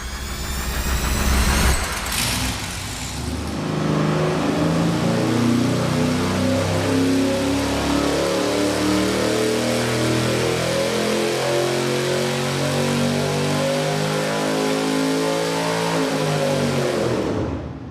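A bone-stock V8 engine fires up on a dynamometer and runs loud and steady, with a strong rumble and rising and falling revs across the pulls. It is heard alone throughout, with no talking.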